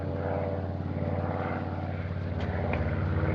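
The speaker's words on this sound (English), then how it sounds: "Gee, look at that big new plane up there." A big new propeller airplane drones overhead on a government test flight, its engines producing a steady, loud, harmonic hum that holds throughout.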